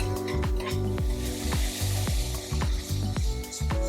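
Tomatoes and cardamom seeds sizzle steadily in hot oil for a rogan curry, a close, continuous frying hiss with a few soft stirring scrapes and no talking.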